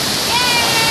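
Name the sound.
Way Kalam waterfall in South Lampung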